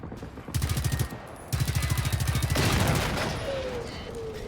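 The HP5 submachine gun in the video game Generation Zero fires in rapid automatic bursts, two sharp rattling volleys close and loud, the second longer and fading into a lingering echo.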